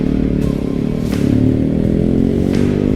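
A Yamaha R15 motorcycle fitted with a racing exhaust runs loud and close, its engine droning and rising in a brief rev with some rattling clatter, no voices over it.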